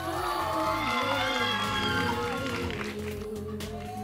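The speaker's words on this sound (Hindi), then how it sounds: "जोरदार तालियां हो जाए" An audience at a Bollywood-style dance competition elimination round in Arunachal Pradesh roars steadily with cheering, shouts and whoops, a dense sustained crowd noise over a musical background.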